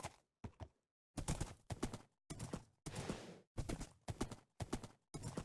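Horse hooves clip-clop in a modded Minecraft 1.9 game, coming in loud, close bursts of rapid clopping separated by short silent gaps.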